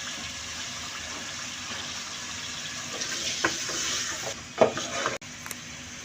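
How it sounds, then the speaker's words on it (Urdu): Ginger garlic paste and mutton frying in butter for nihari, a steady hissing sizzle with stirring scrapes and a few clinks near the end, close and fairly loud. "ایک چمچ ادرک لہسن کا پیسٹ شامل کیا ہے, اس کو اچھے سے بھون لیں گے"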